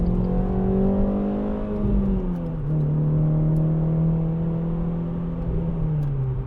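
Steady drone of a 2010 Renault Clio 2.0 VVT Renaultsport engine held at a constant rev, the pitch dipping slightly then rising again, loud and close with no talking.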